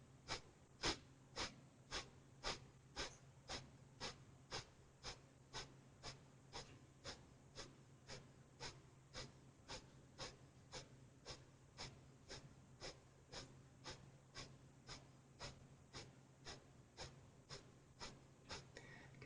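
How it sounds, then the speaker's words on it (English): Rapid Breath of Fire yoga breathing, quick sharp exhales pumped by the diaphragm in an even, steady rhythm of roughly two per second, close and unbroken, with no talk. "we'll begin a little flutter with the diaphragm, so quick little exhales until you find a nice rhythm"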